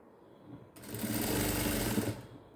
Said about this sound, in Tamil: அப்படியே நேராக வச்சு தைச்சி எடுத்துகிட்டு வருவோம்